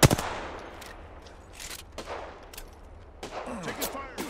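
Gunfire in the Apex Legends online shooter on PS4, charge rifle mentioned, a loud sharp shot at the start and a few scattered distant reports after, set under game ambience with voices talking.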